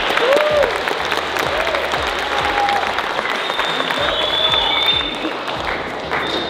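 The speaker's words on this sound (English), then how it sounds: "Person said, give him a round of applause." A high school audience claps in a full, continuous round of applause that holds steady and fades slightly toward the end, with faint murmurs and a few voices mixed into the crowd.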